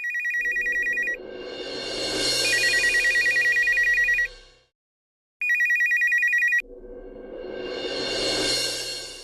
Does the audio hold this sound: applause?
no